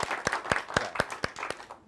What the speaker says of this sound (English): Let's give Leon a well-deserved round of applause.